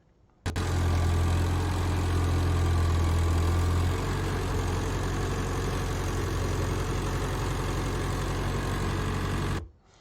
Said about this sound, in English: it's literally a tractor putting hay in the barn.